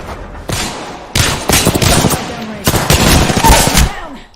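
Apex Legends video game gunfire rattles out in several loud bursts of automatic fire with sharp impacts and thumps, mixed among voices and effects.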